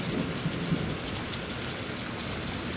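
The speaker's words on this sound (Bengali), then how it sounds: "অনেক শব্দ হইতেছে খাড়া খাড়া শব্দ হইতেছে বিজলি চমকে যেতেছে অনেক অনেক বৃষ্টি আজকে" Heavy rain pours steadily during a storm in Saudi Arabia, a dense, even hiss that stays loud throughout, with a couple of dull low rumbles early on that may be distant thunder.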